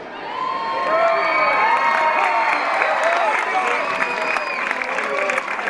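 A large crowd at an intermediate hurling championship match cheers, whoops and applauds in a dense, sustained roar, loud and close throughout, with individual shouts rising above the clapping.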